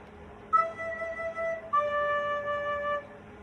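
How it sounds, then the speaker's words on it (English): Two separately tongued notes on a soprano recorder, an E and then a D, each with a distinct attack, sustained and clear, alone in a quiet room. "If I tongued both of those notes, it would sound like this."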